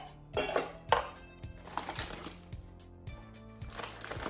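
Clattering kitchen sounds as a bowl is grabbed and set down, with several sharp clinks and knocks of dishes at uneven intervals, close and moderately loud.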